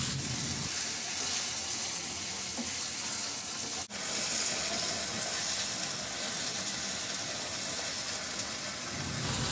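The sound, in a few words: chicken pieces frying and being stirred in a pan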